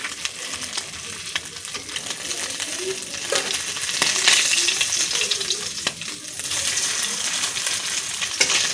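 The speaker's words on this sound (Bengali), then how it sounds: "এরকমভাবে সব মাছগুলো ভাজা করে নেব" Small morula fish fry in hot oil, a continuous close sizzle broken by occasional sharp scrapes and clinks of a spatula against the pan.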